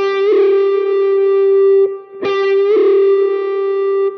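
A distorted electric guitar holds a sustained note, then a ruler slammed on the strings gives a sharp percussive crack, followed by a whammy bar pulled up as the note resumes, loud and close with no talking.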